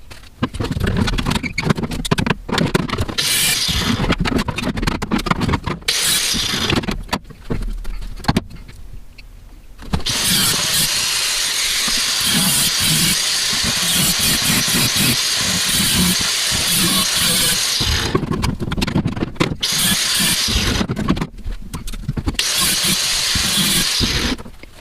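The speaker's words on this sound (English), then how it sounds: "for that, we'll use an auto body saw" An auto body saw cuts through the car floor section where the seat bolts down, a loud, steady hissing rasp running near-continuously with brief pauses between passes.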